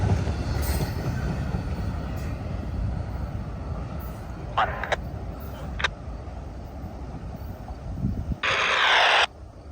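A CN freight train with light power passes close by with a rumbling roll of wheels on the rails, sharp squeals and clanks, and a brief loud hiss near the end. Faint talk can be heard in the background.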